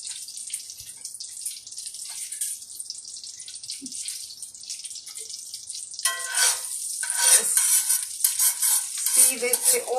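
Butter and oil fry in a pan for tomato gravy, a steady bright sizzle up close that grows louder and more crackly partway through as the fat spits and pops.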